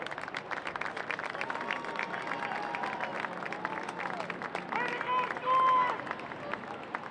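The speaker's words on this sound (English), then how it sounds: "Join us in giving George a round of applause" Stadium crowd applauding at a college football game between Lawrence Tech and Saint Xavier, a broad wash of clapping and cheering mixed with crowd babble, steady and moderately loud, swelling briefly near the end.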